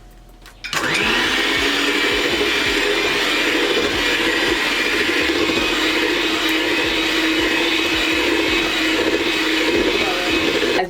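An electric mixer whirs through vanilla cake batter, switching on after a brief quiet start and then running loud and steady to the end, with no talking.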